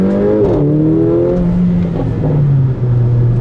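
A Mercedes AMG GLA45 crossover engine revving up close and loud, its tone climbing then easing and settling into a steady high rumble with small pitch dips, with no voices over it.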